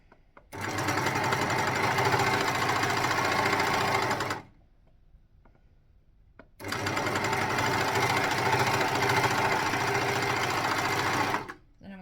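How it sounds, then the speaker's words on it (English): An overlocker sewing machine stitches through fabric in two long, loud, steady runs of rapid mechanical whirring, with a brief quiet pause between them. "we're just going to overlock through"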